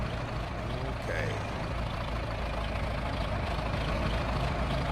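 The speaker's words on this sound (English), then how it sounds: "The old 3020 is just sitting here idling, waiting for us." A John Deere 3020 tractor idles in a farmyard at corn silage time, giving a steady, even diesel rumble that runs unbroken for several seconds at moderate loudness, with no break in the drone.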